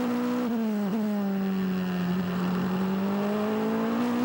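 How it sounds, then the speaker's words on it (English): Onboard an A1GP single-seater race car at Brands Hatch, a strong engine note rising steadily under throttle along the straight, with a brief dip and gear change early on, continuous and close. "Nice and progressive on the throttle as he comes along Cooper Straight."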